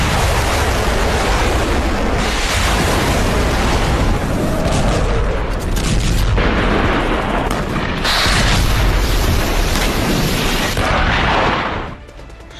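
Naval artillery fires during a Chinese military exercise at sea, a dense, heavy barrage of booms and rumbling explosions rolling on continuously and loudly, then dropping off sharply near the end.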